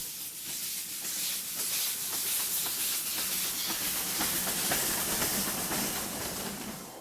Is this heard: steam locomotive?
yes